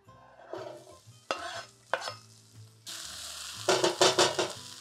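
Leeks and garlic cooking in a pan: a soft sizzle under stirring and scraping, then a louder, brighter burst of frying and rhythmic stirring as more goes in, with no voices.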